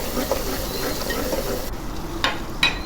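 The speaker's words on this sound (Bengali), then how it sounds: "এর মধ্যে আমি এখন একটু পেঁয়াজ বাটা রসুন বাটা দিয়ে দিব, একটু লাল করে নেব" Onion and garlic paste frying in a pan over browned onions, a steady dense sizzle and hiss throughout with a few brief clinks of a utensil near the end.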